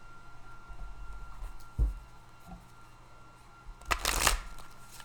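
A deck of playing cards gets a quick shuffle, with a soft riffle early on and a louder, fuller burst of fluttering cards near the end, close up and with no talking.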